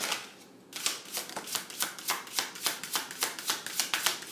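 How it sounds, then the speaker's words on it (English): Tarot cards shuffled close up, a brisk regular run of about fifteen crisp riffling snaps after a brief quiet start. "Let's give this one more shuffle here."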